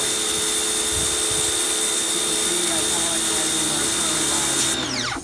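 An HGTV Home 1750 PSI electric pressure washer sprays through a pinpoint nozzle, a loud, steady motor whine with hissing water running continuously close by, cutting out near the end.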